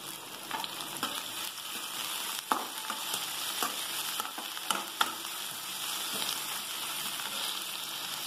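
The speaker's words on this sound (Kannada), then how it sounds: "ಈರುಳ್ಳಿ ಮತ್ತೆ ಸ್ವಲ್ಪ ಕೆಂಪಾಗಲಿ, ಹಾಗೆ ಹಸಿಮೆಣಸಿನಕಾಯಿ ಹಾಕ್ತಾ ಇದ್ದೀನಿ." Onions and green chilies frying in a pan for amaranth palya, a steady close sizzle with occasional spoon scrapes and stirring clacks, no talking.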